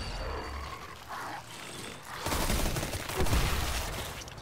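Suicide spiders in the Destiny video game detonate in bursts of rough explosive noise and crackling debris that swell louder in the second half amid game effects.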